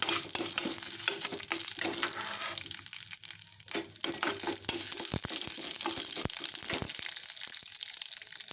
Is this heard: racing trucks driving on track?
no